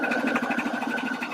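A sewing machine stitches a bucket hat seam at a steady, rapid pulse, the needle's rhythmic chatter running close and unbroken with no voices.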